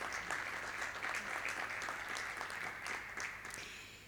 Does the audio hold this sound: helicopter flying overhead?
no